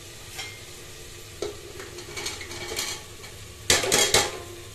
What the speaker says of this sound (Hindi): लो जी आप सब्जी पा देने ये कुकर च